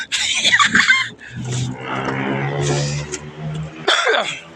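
A person coughs in harsh bursts, once at the start and again near the end, with a drawn-out throaty, voiced groan and throat clearing in between, all close and fairly loud.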